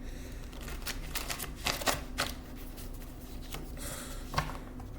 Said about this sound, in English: We're going to shuffle one more time just for authenticity.